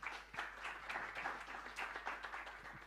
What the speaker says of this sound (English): Please, a round of applause to everybody.